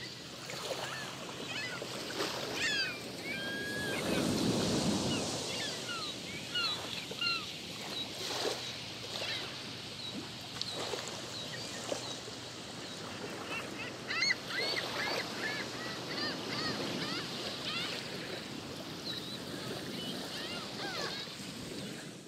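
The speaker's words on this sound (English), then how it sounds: "And here we have the wind." Game sound design wind ambience: a steady, fairly quiet whooshing bed of wind with gusty swells, mixed with faint chirps and scattered higher sounds, no talking.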